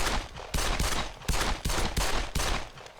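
Bursts of automatic gunfire from the World War II shooter Brothers in Arms: Hell's Highway, about six sharp volleys in quick irregular succession, fairly quiet overall with no talk.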